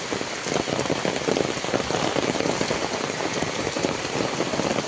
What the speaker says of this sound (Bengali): এই যে এখান থেকে বৃষ্টির পানি পড়ে